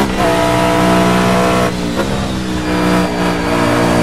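McLaren F1 GTR Long Tail race car in Project CARS accelerating hard, with a loud, steady, high-revving engine roar that runs through the whole stretch with slight dips as the gears shift, and no voices.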